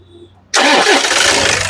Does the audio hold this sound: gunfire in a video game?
no